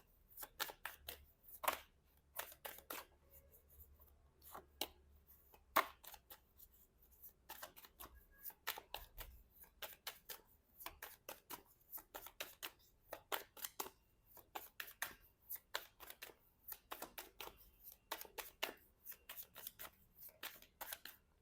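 Tarot cards being shuffled and handled in a quiet room, with a long series of soft, crisp flicks and snaps. They come in uneven clusters, close and faint, with no talking.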